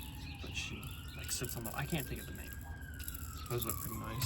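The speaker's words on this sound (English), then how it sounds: "Sorry for the sirens." Emergency sirens passing outside, a wailing tone sweeping steadily in the background while a person talks nearby over it.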